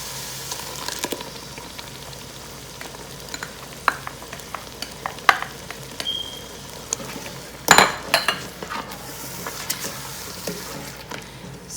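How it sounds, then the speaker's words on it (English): Tomato puree from four tomatoes stirred and frying in a pot for Mughlai chicken biryani, a steady sizzle under scraping spoon clinks and pan knocks, with one louder clatter midway. "At this point I will add our 4 tomatoes puree."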